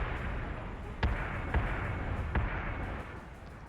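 A ship in a space combat video game takes hits from bullets and missiles, with three sharp impact bangs over a dense, rumbling bed of noise.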